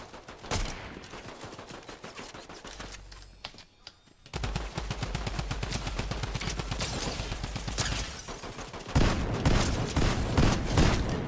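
Rapid automatic drum gun fire in a video game, sustained bursts of close, loud shots with a short pause midway, then heavier firing toward the end.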